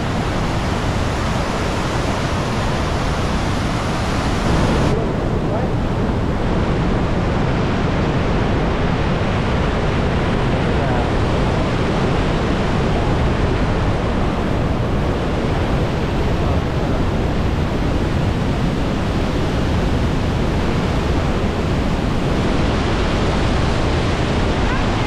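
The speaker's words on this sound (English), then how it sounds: "And we got the top of Vernal Falls here." Vernal Falls in Yosemite, heard from the top of the falls, gives a loud, steady, broadband rushing roar that holds unbroken throughout.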